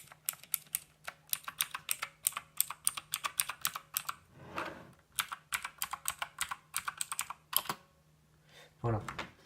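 Rapid, crisp clicks come from typing on a Motospeed CK104 mechanical keyboard with blue switches and keycaps fitted. The close keystrokes run quickly, pause briefly, and end with a short voice.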